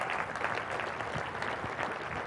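An audience at a development presentation claps after a new retail tenant is announced, a soft, distant and even patter of many hands filling the room without talk.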